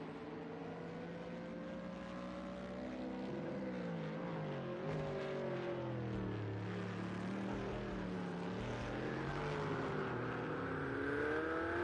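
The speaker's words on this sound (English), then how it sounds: "The Bentley does sound awesome." Bentley race car engine in the Project CARS 2 racing game at Donington, a steady droning engine note whose pitch rises and falls through gear changes, moderately loud and continuous with no talk.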